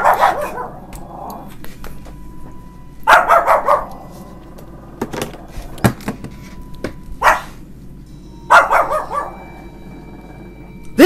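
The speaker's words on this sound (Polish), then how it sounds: "Wypuść tego psa!" A dog barks in several separate bursts of rapid, loud yaps with brief growly edges, spaced a few seconds apart, close by and otherwise alone with faint room noise between them.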